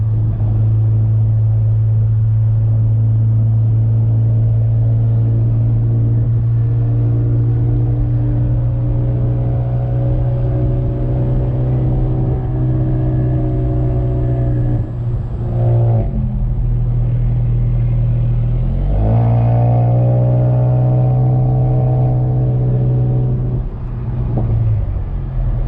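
A VW MK7 GTI fitted with a Mamba GTX3071R turbo drives and accelerates, heard from the cabin as a loud, steady engine drone with rising pitch sweeps on two pulls.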